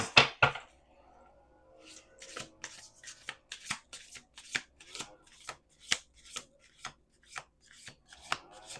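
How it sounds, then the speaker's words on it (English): Playing cards riffle and snap in a rapid series of crisp, rhythmic bursts, close and clear in a quiet room. "Let's do 2 more shuffles."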